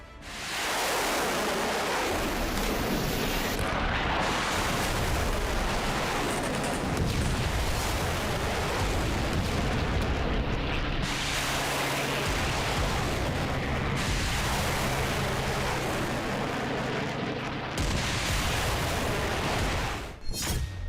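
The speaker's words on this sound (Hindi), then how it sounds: "चीन की नौसेना के युद्धपोतों से मिसाइलों की बौछार निकली" A barrage of missiles launches from Chinese navy warships, a loud, unbroken roaring rush of noise that holds steady for about twenty seconds, with a low hum running through the middle stretch.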